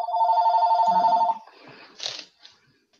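A VoIP house phone rings with one bright electronic warbling burst lasting just over a second, close by, followed by brief faint handling noises.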